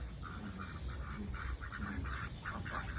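Many Pekin ducks quack in a busy, overlapping chorus, fairly close and constant over a rough outdoor background.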